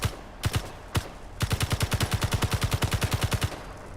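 Gunfire in the Space Engineers video game: three separate shots, then a rapid automatic burst of about twenty evenly spaced loud reports, close and with no talk.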